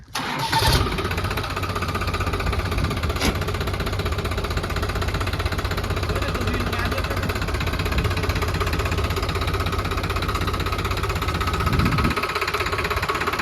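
A tractor engine cranks and catches, then runs with a steady, rough diesel idle that continues loudly throughout.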